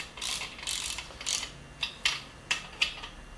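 A socket ratchet clicks while tightening main bearing cap bolts on a Chevy 350 small-block crankshaft, a series of short close ratcheting bursts that grow sharper and more clipped toward the end.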